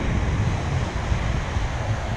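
Ocean surf breaking on a beach seen from a kayak fishing spot, a steady roaring wash of waves with heavy wind buffeting the microphone throughout, no voices.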